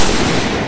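Fireworks burst outdoors at a birthday celebration. A dense, loud crackle and pop fills the whole short moment with no break.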